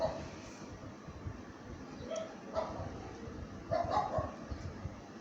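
Street dogs give a few short barks and yips at a moderate distance, scattered through the span over a steady rustling background.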